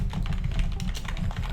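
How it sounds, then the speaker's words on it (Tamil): Rapid typing on a computer keyboard, with a steady stream of close, crisp key taps and no voices. "ஓகே டைப் பண்ணிடுறேன்."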